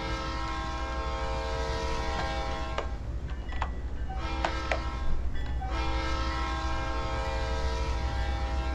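Inside the Train Simulator 2009 video game, a train rumbles along steadily with a sustained multi-tone horn sounding throughout, broken by a few short clicks and knocks midway.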